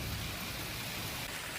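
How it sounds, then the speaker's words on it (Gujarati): Heavy rain falls during a Gujarat monsoon storm with lightning, a brief, steady hiss of rain on surfaces, fairly quiet and even throughout. "ભારે વરસાદ થઈ રહ્યો છે"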